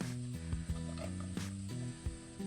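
Onion and carrot fry in a pan of oil while being stirred, a steady close sizzle broken by a few clinks and scrapes of the spoon against the pan, with no voices.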